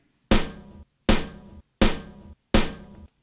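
Four crisp snare drum hits sound one after another at an even pace, each sharp and bright, alone against silence.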